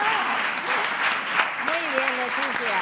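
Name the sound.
audience applause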